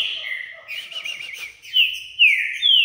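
A female bird sings a short run of clear, high whistled notes and chirps, including a warbling trill and several quick rising-and-falling sweeps, close by and alone.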